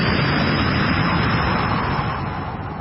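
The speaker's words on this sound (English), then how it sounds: "And then you're going to blow it out through your mouth." A forceful exhale blown out through the mouth during a breathing exercise, heard as a loud, close, broadband rush of air that holds steady for nearly three seconds and tapers slightly at the end.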